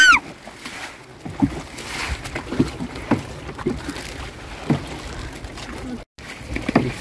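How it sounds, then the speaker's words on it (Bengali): A boat glides across the lake at Maithon, with soft lapping and sloshing water under a light wind and faint, intermittent background voices throughout. "এবারে দেখুন এই নৌকা দেখুন।"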